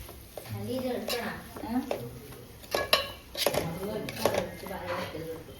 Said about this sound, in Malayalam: മല്ലിയിലയും കൂടി ഇട്ടിട്ട് നന്നായി ഇളക്കുക